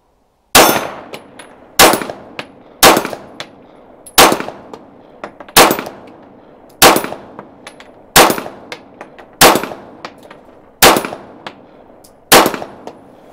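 Ten gunshots ring out at an outdoor steel shooting day, fired single-handed at a steel gong target, each a sharp loud crack with a metallic clang, evenly spaced about a second and a quarter apart.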